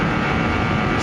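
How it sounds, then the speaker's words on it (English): A shop heater blows a loud, steady broadband roar with a low hum, filling a vehicle body shop evenly and unbroken throughout. "I got the heat going, so I apologize for the noise."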